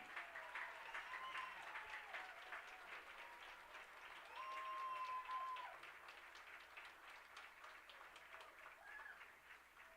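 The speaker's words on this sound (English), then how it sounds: "Let's have another round of applause for this year's winners and nominees" An audience claps for youth football award winners and nominees at a Catholic league championship ceremony. The applause is steady and sustained throughout, with faint voices mixed in.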